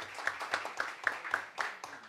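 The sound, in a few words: audience applause in a hearing room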